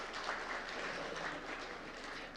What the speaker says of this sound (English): Can we all give them one more round of applause